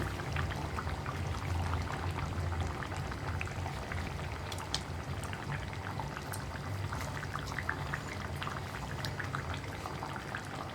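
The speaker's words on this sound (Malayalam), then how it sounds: "തിളച്ച് കുറുകിക്കൊണ്ടിരിക്കുന്നുണ്ട്" Tomato fish curry boiling and thickening in a pot on the stove: a steady, close bubbling and soft popping simmer that stays even throughout, with no voices.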